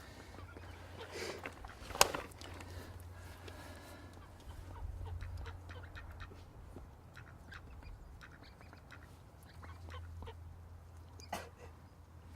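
A duck quacks faintly at a fishing spot by the water, a few scattered calls over low background rumble, distant and quiet.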